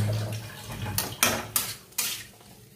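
Utensil scraping and clinking in a cooking pan while ginger and green chili paste is stirred, a few sharp metallic knocks against the pan over a soft sizzling background, close and moderately loud.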